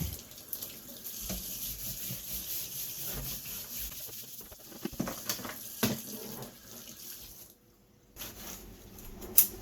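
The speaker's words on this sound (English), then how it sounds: "Now we're going to wash it down with some soap and water." Soapy water washing down a muddy hedge trimmer during cleaning before sharpening, a steady close splashing and rubbing running almost throughout, with brief scrubbing bursts and a short near-silent gap late on.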